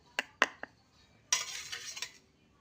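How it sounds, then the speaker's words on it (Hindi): Homemade kajal being scraped into a small container: a few sharp metallic taps and clicks, then a brief rough scraping run, close and fairly quiet, with no talking. "तो इस काजल को मैंने ना इस डब्बे में रखना है अब।"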